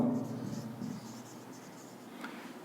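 Pen or marker scratching across paper or a board while maths working is written out by hand, heard as a soft, steady stroking sound at close range.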